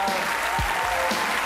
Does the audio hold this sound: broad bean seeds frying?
no